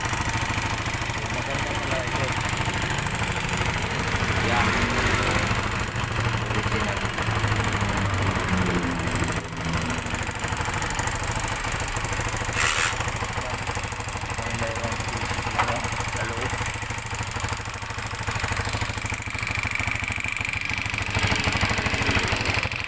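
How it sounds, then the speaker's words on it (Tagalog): A Haojue HJ 125-16 motorcycle engine, converted to CDI ignition, idles at close range with a steady, slightly rough mechanical chatter. The sound carries on continuously, with voices talking over it in places. "Hingga na itong makina na ito ilang taon, ngayon lang napandar."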